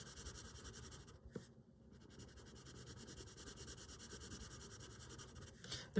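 Ohuhu Halawa coloured pencil scratching steadily across Spring Hill paper as layers are built up, a close, continuous dry rubbing with even pressure and a couple of brief lifts of the pencil, no voice.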